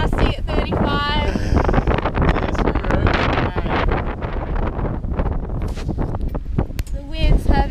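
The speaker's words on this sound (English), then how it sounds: "The winds have increased dramatically." Strong, gusty wind at sea, about 28 to 35 knots, roars and buffets loudly and continuously aboard a sailing boat, with voices talking faintly beneath the rush.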